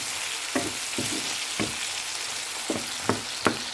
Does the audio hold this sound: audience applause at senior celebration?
no